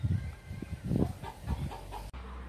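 Farm chickens cluck near at hand in a series of short, uneven bursts, moderately loud, before a sudden cut.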